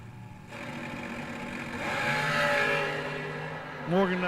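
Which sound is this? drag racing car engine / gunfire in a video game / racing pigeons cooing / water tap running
drag racing car engine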